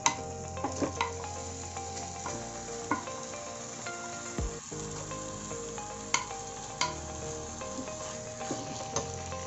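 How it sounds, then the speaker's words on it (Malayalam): Marinated chicken stirred into a sizzling tomato masala for Kerala-style chicken mappas, a steady close frying hiss broken by repeated scraping stirs and occasional knocks of the spoon against the pan. "ഇനി നമുക്കിതിലേക്ക് ചിക്കൻ ചേർത്ത് കൊടുക്കാം"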